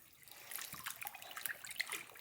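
Collard greens are swished by hand in a sink of water with vinegar and salt, giving soft, continuous splashing and sloshing with small drips, close and fairly quiet.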